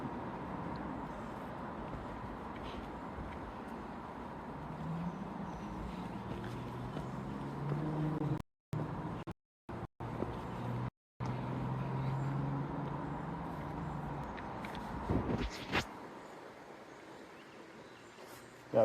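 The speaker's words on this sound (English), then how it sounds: "I'm right by the highway, like you can hear the traffic sounds" Highway traffic heard from a nearby roadside on an afternoon dog walk, a steady moderate roar of passing vehicles with swells as cars go by, no talking.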